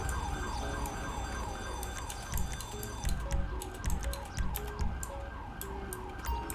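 Ambulance siren in GTA V at a scene in Strawberry: a continuous wailing siren sweeps up and down rhythmically over engine rumble and scattered clicks, moderately loud and steady throughout, without speech.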